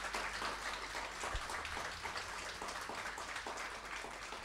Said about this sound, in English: How about a round of applause for our guests?